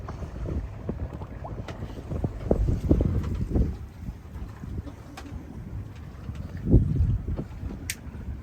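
Wind of about 12 knots buffeting a sailboat entering Skiathos bay in Greece, gusty low rumbling against the microphone that comes in irregular bursts, with faint creaks from the boat.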